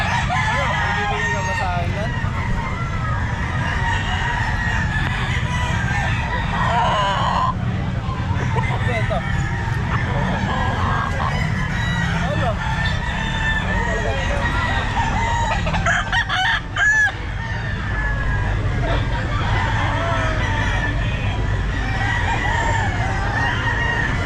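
A young rooster, a stag, crows repeatedly at a busy pet market amid clucking fowl, loud and close, with people talking throughout and traffic in the background.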